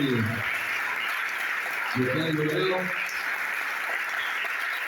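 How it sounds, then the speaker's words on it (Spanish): A church congregation claps in a steady, broad wash of applause that fills the room, with a speaker's voice briefly over it at the start and again midway. "creo que todos se merecen un fuerte aplauso"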